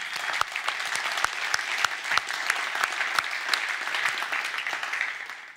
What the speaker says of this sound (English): Let's give them a little applause.